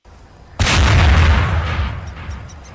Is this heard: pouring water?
no